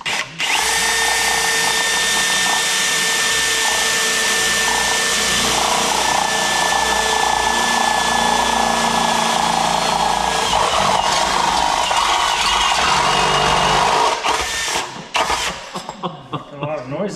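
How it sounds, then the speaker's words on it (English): A power drill bores through a 2024 900R XRS motorcycle muffler, whining loudly and steadily for about fourteen seconds before winding down, with voices talking over the grinding at the end. "I'm drilling right into that."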